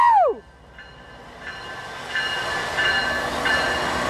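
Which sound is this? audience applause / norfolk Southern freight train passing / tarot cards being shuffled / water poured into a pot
norfolk Southern freight train passing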